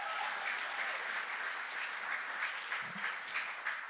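A church congregation claps together in steady, sustained applause, a dense wash of many hands filling the room evenly from start to finish without any speech.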